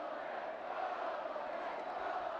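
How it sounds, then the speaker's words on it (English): A distant crowd of supporters roars steadily from the far side of the pitch at a schools football final, cheering the Altrincham Boys Grammar School players in one continuous, even wash of voices. "the Altrincham players get a great cheer from the far side and their supporters"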